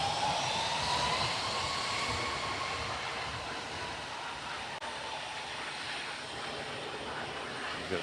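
An aircraft taxiing back along the runway toward its parking bay at the Farnborough International Airshow 2024, a steady, broad engine roar with a faint rising whine, held at a constant level throughout with no speech.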